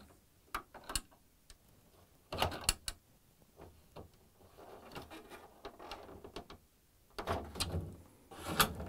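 Plastic freezer drawer on an LG/Kenmore refrigerator being pried up at its tab with a flat-blade screwdriver and lifted off the rail: scattered clicks, clacks and sliding scrapes in several bursts, moderately loud and close, with no voices.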